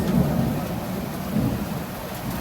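Heavy rain pours steadily while low thunder rumbles in two rolling swells, close and enveloping, with no voices, at ten o'clock on a Thursday in the Philippines.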